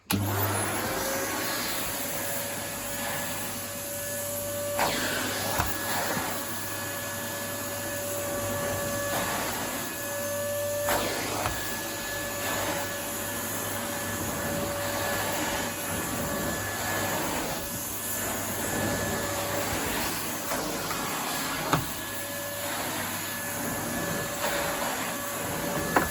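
A Henry HVR200 vacuum cleaner from 2001 runs steadily with a constant motor roar and airy suction hiss, broken by a few short sharp bumps and sucking surges.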